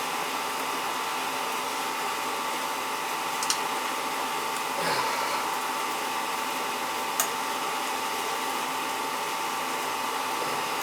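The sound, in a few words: oil boiler burner motor running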